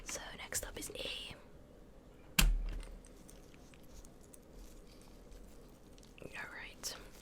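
Keycaps are pried off a computer keyboard one at a time, making a few sharp close clicks and plastic taps, including one louder pop, under soft whispered talk.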